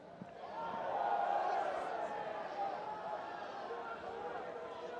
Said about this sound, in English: Crowd wants another foul.